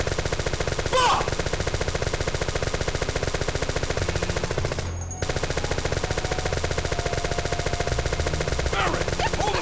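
A fast, steady automatic gunfire barrage rattles almost without pause through a Final Fantasy VII fight, briefly dropping out once midway, with faint background noise mixed in.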